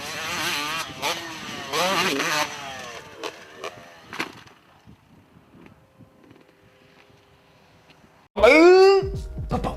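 A dirt bike engine bogs on the face of a home-made jump, a sudden loud bursting rev near the end following a stretch of people talking and a quiet pause.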